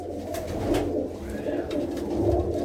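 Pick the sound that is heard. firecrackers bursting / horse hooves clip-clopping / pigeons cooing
pigeons cooing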